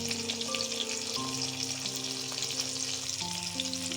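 Mango pieces frying lightly in oil with a dried red chilli and a pinch of turmeric, making a continuous close sizzle and crackle with faint stirring underneath.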